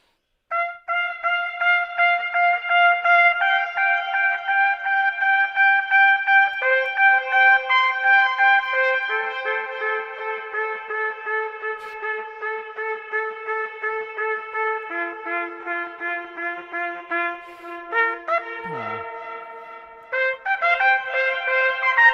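A sustained melodic instrument plays a slow line of long held notes while practising the Brandenburg Concerto No. 2, with reverb turned up so each tone rings and blurs into the next, loud and close, without speech.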